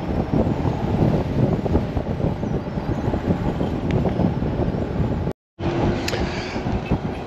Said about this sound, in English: That wind is still kicking.